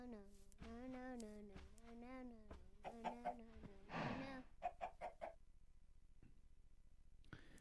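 Minecraft chicken clucking in short repeated bursts amid game sounds, moderately close, followed by a few sharper clucks and a quiet stretch; a voice briefly accompanies it.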